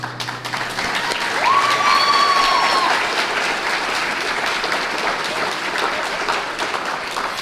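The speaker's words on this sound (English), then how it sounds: "Let's give one more round of applause for our CCPS Portrait of a Graduate video and its participants" A hall full of people claps steadily at a school district's State of the Schools event, a loud, even wash of applause holding throughout, with a brief tonal sound near the start.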